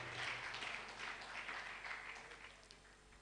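Audience clapping at a research institute's annual review workshop, a dense, steady patter of many hands that fades slightly toward the end, heard at a modest distance.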